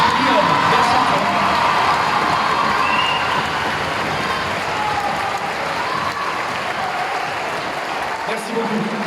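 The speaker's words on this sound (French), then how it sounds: "Je vous demande de l'applaudir très fort" An audience at a school choir event gives the event coordinator sustained, loud applause, with dense clapping that fades slightly toward the end, along with some cheering and voices.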